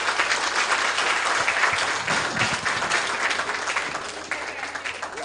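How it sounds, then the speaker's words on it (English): Dense, continuous applause from an audience at a music therapy centre concert, loud and sustained throughout, fading slightly toward the end, with no speech over it. "another round of applause for them"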